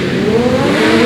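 Stock race cars roar past on a short oval track as one driver rides the rear bumper of another, a loud, continuous engine drone with no voices.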